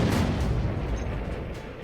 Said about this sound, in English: 88mm Flak 18 gun was designed as a long-range anti-aircraft weapon